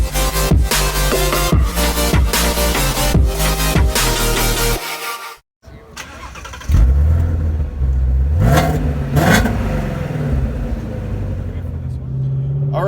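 Ford Shelby GT350 Mustang V8 driving on a road, its engine note loud and close, revving and shifting with a brief near-silent drop midway, then climbing again, while people talk over it.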